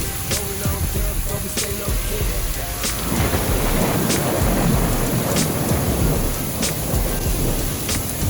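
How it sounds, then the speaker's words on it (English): A rainstorm with thunder strikes while sailing in the Abaco Islands, Bahamas: loud, dense rain pours steadily as thunder rumbles low beneath it. "The next morning we got hit with a little rainstorm"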